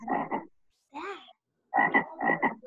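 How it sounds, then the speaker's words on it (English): A frog croaks in repeated bursts, two quick pairs, a short pause and a rising call, then two more doubled croaks, loud and close with no talk over them. "It's a frog."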